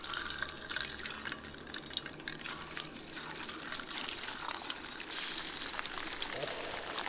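Lemon-pepper scored trout frying in hot oil outdoors, a steady fizzing crackle that swells louder partway through, with a voice speaking faintly underneath.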